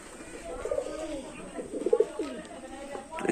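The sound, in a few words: Teddy pigeon and its baby cooing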